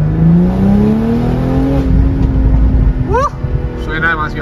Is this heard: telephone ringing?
no